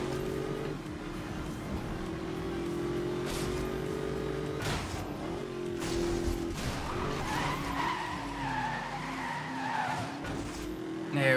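Tires squeal steadily as a car drifts through a drift attack in Need for Speed Most Wanted 2012, with a droning engine underneath and the pitch of the skid shifting as the slide goes on.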